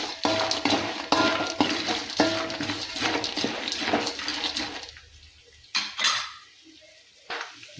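Poha chivda with peanuts and roasted gram is stirred and tossed in a pan, busy scraping and clinking of a spoon against metal that fades to a few sparse scrapes near the end.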